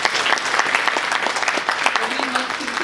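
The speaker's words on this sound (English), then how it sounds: "Give yourself a round of applause." An audience at an awards keynote event applauds steadily, a dense close clapping that holds at full loudness throughout the short burst, with voices faintly beneath.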